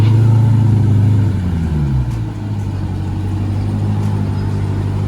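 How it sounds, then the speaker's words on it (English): A Dodge Hellcat Durango SUV rolls up close into a home driveway, its deep engine rumble loud at first, then dropping as it slows and settles into a steady low idle. "let me get a close shot of the Hellcat Durango coming into my driveway"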